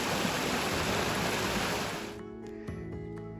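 Loud rushing water roars for about two seconds, then cuts off abruptly, leaving quieter tones and a few soft knocks.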